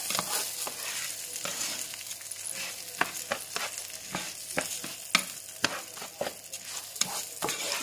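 Food stirred and mixed in a frying pan for a Turkish dish, with steady close sizzling under a run of sharp scraping and clacking utensil strokes at an irregular rhythm.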